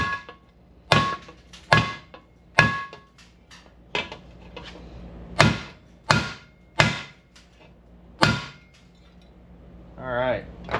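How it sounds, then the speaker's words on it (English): A ball peen hammer strikes thick metal laid on a piece of wood to straighten it, about ten sharp ringing blows at an uneven pace, close and loud, with a short whistling sound at the end. "I got a ball peen hammer and a piece of wood. So I'm going to start right here."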